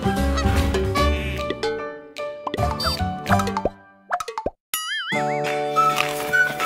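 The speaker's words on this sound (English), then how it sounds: "Next up we have some ducks and a goose" Toy ducks and a goose from a children's farm set, heard as a string of bright honks, quacks and plops over playful cartoon music, with a short break of silence and a rising boing before the music resumes.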